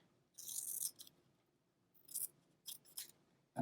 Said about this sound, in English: this one's not the same size, but I'll trim it